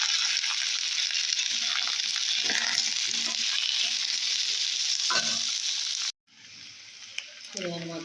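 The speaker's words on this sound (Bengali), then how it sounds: "পেঁয়াজগুলো ভাজা ভাজা হয়ে যাচ্ছে" Onions and potatoes frying in a pan hiss in a steady, close sizzle with occasional stirring scrapes, then the sound cuts off abruptly and a voice briefly speaks.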